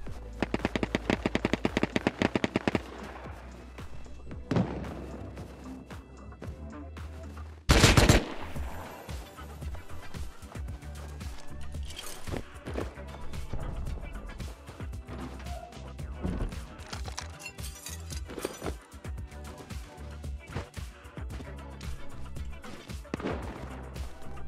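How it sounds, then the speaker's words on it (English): AK assault rifle gunfire in a video game crackles in rapid automatic bursts early on, then one sharp loud shot and scattered distant fire follows over quieter background activity. "That was an AK. Let's go check out that AK shot."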